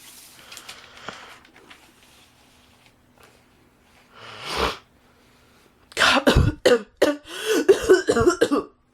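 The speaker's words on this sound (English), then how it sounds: "I was actually trying to cough" A few raspy breathy sounds give way to a burst of loud, close, repeated hacking coughs with a throaty, snorting edge near the end.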